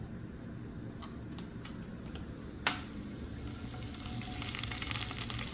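Vegetables for a ramen stir fry fry in a pan with a steady, moderate sizzle, broken by a few light ticks and one sharp clack partway through, with no talking.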